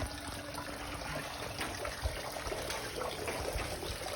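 Water rushes steadily through a Jabsco quick-connect flush attachment on an outboard motor, giving a continuous even hiss and gurgle with no voices.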